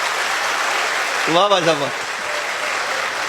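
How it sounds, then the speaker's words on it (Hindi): An audience at a Haryanvi comedy show claps in a dense, steady wash of applause, while a voice briefly cuts in over it. "एक बार इकट्ठे बजाओ सारे ताली, जोरदार"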